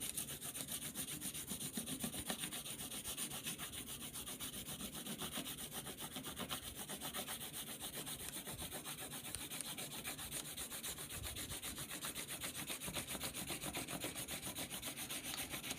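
Paper is rubbed steadily over bumpy, ridged textured surfaces, giving a continuous close, scratchy rasping sound that holds at an even level for about sixteen seconds with no talking.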